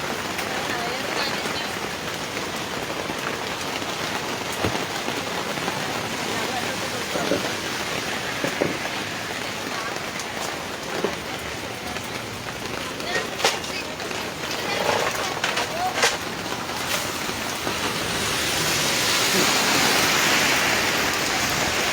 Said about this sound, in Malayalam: ഭീകരമായ മഴയാണ്. അപ്രതീക്ഷിതമായിട്ടാണ് ഈ മഴ പെയ്തത്.